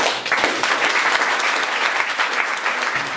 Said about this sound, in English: A warm applause to this great panel.